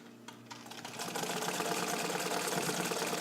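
A restored all-metal vintage Necchi BU Nova sewing machine runs a zigzag stitch with back tacking, starting with a few clicks, then settling into a fast steady mechanical whir and clatter, close up.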